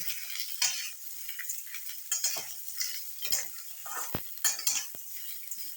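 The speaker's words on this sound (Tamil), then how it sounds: "பீர்க்கன் நல்லா ஒரு ப்ரௌனிஷ் ஆகிற அளவுக்கு கொஞ்சம் வதக்கிக்கணும்" Ridge gourd pieces sauté in a pan over raised heat, with soft, irregular stirring scrapes and clinks above a faint, hissing sizzle.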